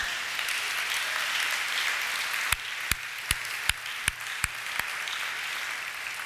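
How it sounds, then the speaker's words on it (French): A church congregation applauding at a Sunday service, a continuous wash of clapping with several sharp, loud individual claps standing out near the end. "Alléluia! Acclamons notre roi."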